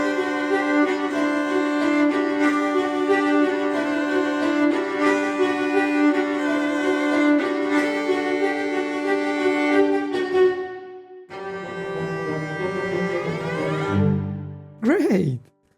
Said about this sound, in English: What if we put our cellos with the Synchron Stage Reverb?